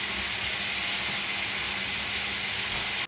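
Water pours steadily from a water-heating appliance, a close, constant hissing gush like a running tap that holds at even loudness throughout before cutting off at the very end.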